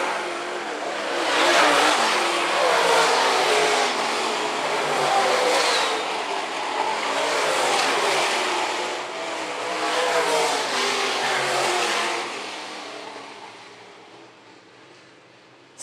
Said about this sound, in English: As the late models continue to run their feature here at Phillips County Raceway